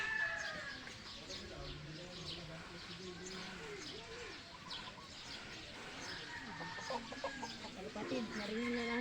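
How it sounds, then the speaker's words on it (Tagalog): Soft cooing from a white pigeon, repeated throbbing calls close by against a murmuring background. "narinig na natin ang white pigeon na ibon natin"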